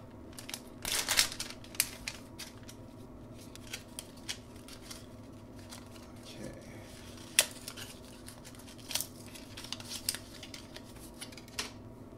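Blind box bags of Japanese collectible figures are torn and crinkled open, with sharp rips and rustling plastic crackles scattered across a quiet room.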